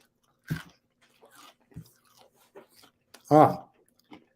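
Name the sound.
person chewing food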